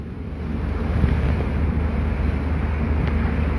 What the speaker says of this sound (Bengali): খানিক সময় আগেই কিন্তু আসলে বৃষ্টির সঙ্গে এই বজ্রপাত শুরু হয়েছে এবং সেটি কিন্তু এখনও চলমান রয়েছে এবং মুষলধারে বৃষ্টি পড়তে শুরু করেছে